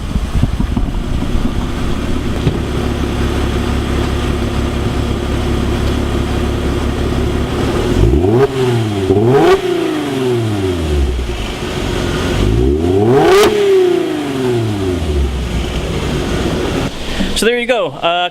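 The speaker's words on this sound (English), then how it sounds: "why don't we get a couple of revs while we're right here," A Mercedes C-Class W204 engine idles steadily up close, then gets blipped twice with quick revs rising and falling, followed by a short third rev near the end.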